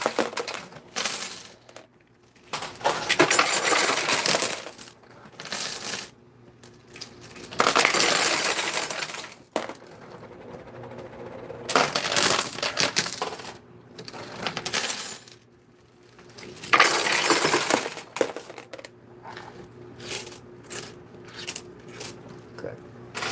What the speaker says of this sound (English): going to start with this many quarters in the bowl, and we'll see how much we get back